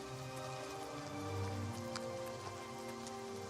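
Steady rain falls in the video game Oblivion, a dense constant patter of drops over a low ambient hum with no talk.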